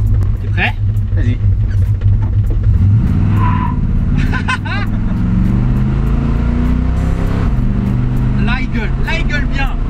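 A 1970 Chevrolet C10 pickup revs and accelerates with a loud, low engine drone that climbs in pitch, joined by brief tire squeals, while excited voices talk and shout over it.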